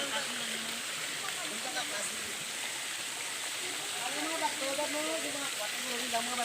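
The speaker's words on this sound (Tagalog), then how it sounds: "Ayan ang waterfalls." The Anini-y waterfall in Antique gives off a constant, distant rushing roar of falling water, with people talking over it.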